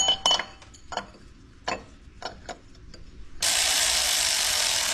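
A ratchet wrench clicks in quick bursts while running in the water pump bolts on a 2010 Ford Explorer 4.6L, with short metallic clinks between strokes, followed by a steady broadband hiss.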